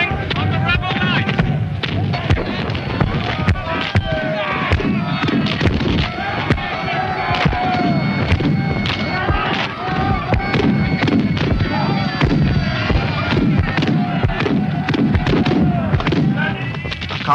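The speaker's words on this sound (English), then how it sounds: "It's going to be very difficult to see what effect our cannon is having on the rebel line." Cannon firing 3-pound cast iron round shot on a smoky battlefield, repeated booming blasts and thuds amid crowd noise and a talking voice throughout.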